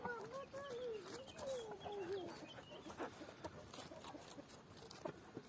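Hens clucking close by in a noisy outdoor setting, their rising and falling calls continuing steadily over a busy background.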